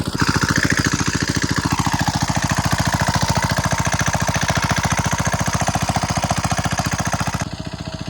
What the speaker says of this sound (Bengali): বাবা জল দিচ্ছে মেশিন গরম হয়ে গেছে সারা মেশিন চলে